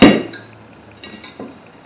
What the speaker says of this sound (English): Okay, that's all the bolts. Let's pull this ring off